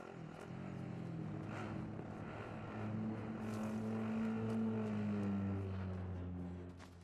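Vehicle engine in Call of Duty: Modern Warfare, a steady rumbling drone with rising and falling pitch as it drives, continuous and fairly close throughout with no talk.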